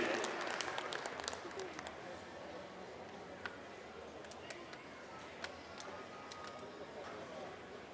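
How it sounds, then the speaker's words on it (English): Spectators at a heavyweight Canadian horse pull finals applaud in scattered, fading claps that thin out into a few sparse taps, while someone talks over an outdoor backdrop. "Let's give them all a big round of applause."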